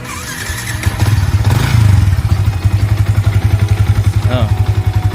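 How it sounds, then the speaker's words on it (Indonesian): A Yamaha New Vixion Lightning motorcycle idles close by, a loud, steady low thumping pulse with a brief rev near the start, and someone speaks over it throughout. "Bahkan sampai saat ini bisa kita cek ya suara mesinnya ya."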